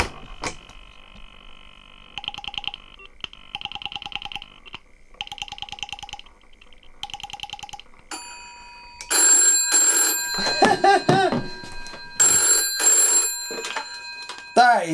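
Telephone ring tones sound in repeated bursts after a dial tone on a phone line set up with a tape machine, then a voice speaks over louder, busier sound near the end.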